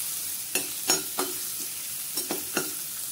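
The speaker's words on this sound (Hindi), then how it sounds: "कढ़ाई में 2-3 चम्मच हमने ऑयल डाल लिया है, तो उसमें सबसे पहले ये हम लहसुन डाल देंगे, अदरक, इन सबको अच्छे से चलाएंगे।" Garlic and ginger frying in a few spoons of oil in a kadai, a soft steady sizzle broken by about six scraping stirs of a spoon against the pan.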